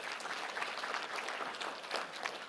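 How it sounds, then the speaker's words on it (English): Applause from a conference audience for the event sponsors at AWE Asia 2024, steady and continuous, heard from a distance and without any speech over it. "So big round of applause for our sponsors this week."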